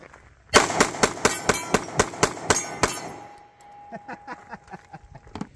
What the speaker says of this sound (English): You can see when I rapid fire